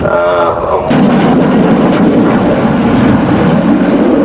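Military jet at the Farnborough Airshow 2014, a loud, sustained engine roar that swells after a brief quieter opening and holds steady, rumbling and broadband, close and overpowering throughout.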